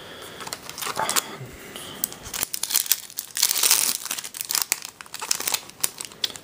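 Foil wrappers of Yu-Gi-Oh Judgement of the Light booster packs crinkle and tear in quick, close bursts, with card handling between, loud and near and free of talk.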